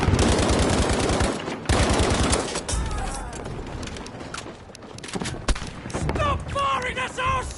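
Battlefield V video game gunfire, loud bursts of automatic fire and scattered shots that fade into sparser distant cracks and a thump before more rattling fire returns.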